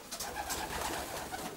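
Young racing pigeons coo softly and continuously inside a loft, their low, murmuring calls overlapping at close range with no voices present.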